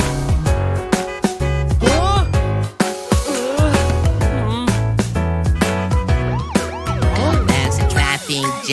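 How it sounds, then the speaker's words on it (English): A musical ambulance siren wails in rising and falling sweeps through a children's song, loud and steady beside bright synthesized notes, with no speech. "The ambulance is rushing, but Rumi thinks anyway."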